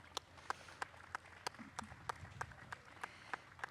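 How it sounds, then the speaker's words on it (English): Faint, sparse clapping from a crowd at an outdoor disability pride rally, with individual claps landing at a loose, uneven pace and heard from a distance. "Let's give yourselves a round of applause."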